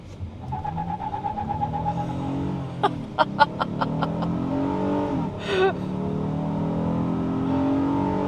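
A 2025 Honda Odyssey minivan in sport mode accelerating hard from a standstill toward 60 mph, the engine note rising in pitch inside the cabin, with a brief squeal of tires partway through and a steady road roar afterward.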